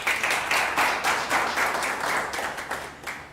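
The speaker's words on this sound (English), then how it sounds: "Let's give them a round of applause" Audience applause fills the hall at the Africa Redefined Indie Book Prize award ceremony in December 2022: a steady, dense wash of clapping that swells in waves and thins slightly toward the end.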